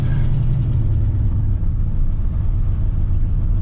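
A revived 1963 Pontiac Catalina engine runs close and loud, a deep, steady low rumble with slight throttle swells throughout, and no voices over it.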